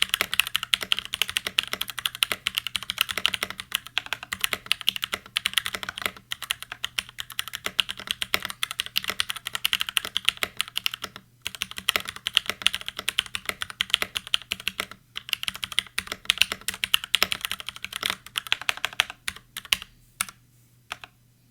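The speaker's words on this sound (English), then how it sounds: "There's a subtle clickiness upon input that makes this not only suitable for gaming, but potentially at an office setting." Steady typing on a Keychron C1 mechanical keyboard fitted with brown switches, a close, continuous patter of light clicky keystrokes with a few brief pauses and no talking.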